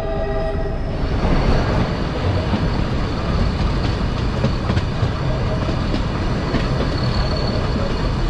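A Nilgiri Mountain Railway train runs between stations on the Mettupalayam–Ooty line, its loud, close rumble and rhythmic wheel clatter continuous, with a horn or whistle tone sounding near the start.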